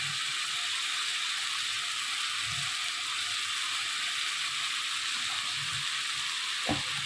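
Spices frying in a pan over low heat with salt and turmeric, a steady soft sizzle with faint scraping and one brief clink near the end, no voices.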